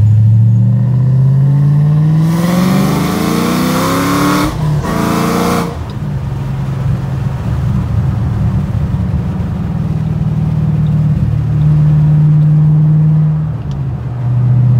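A 2009 Shelby GT500 with a twin-disc clutch drives and revs close by, the engine note climbing steeply, dropping between gears, then holding a loud steady drone.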